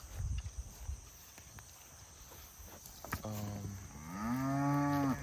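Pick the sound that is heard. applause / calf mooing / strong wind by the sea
calf mooing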